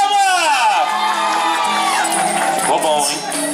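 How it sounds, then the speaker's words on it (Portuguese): A lively party crowd in Tucuruvi cheers, whoops and shouts loudly and continuously at a mother's birthday celebration, a close, dense wall of festive voices. "Uma salva de palmas!"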